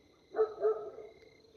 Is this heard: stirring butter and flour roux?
no